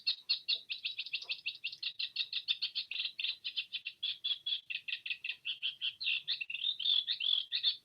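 A reed warbler sings continuously, a fast chattering run of repeated scratchy notes with slight variations and some mimicry, clear and fairly close with no voices.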